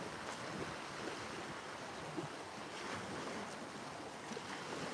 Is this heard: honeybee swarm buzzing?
no